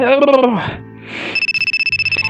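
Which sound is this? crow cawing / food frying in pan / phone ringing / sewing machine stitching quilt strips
phone ringing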